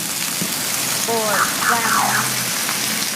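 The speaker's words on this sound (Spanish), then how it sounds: "Que siga lloviendo así" Heavy rain hisses steadily and loudly, with a voice speaking briefly beneath the downpour.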